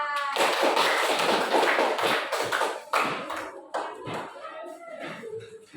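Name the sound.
clapping for group 3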